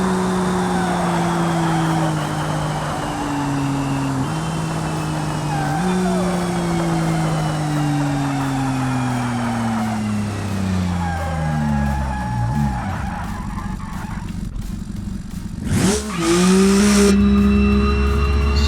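Race car on the Nordschleife in a racing video game, driving with a blown front left tire after hitting a flag: a loud engine climbs through repeated upshifts, then tires squeal and skid near the end, with a short burst of talk.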